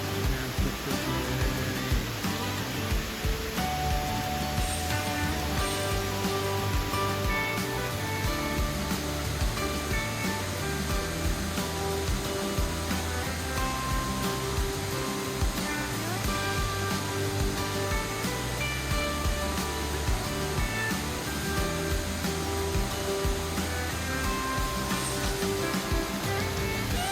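Tat Kuang Si waterfall in Laos roars continuously, a dense, loud broadband rush of falling water that fills the whole scene without a break.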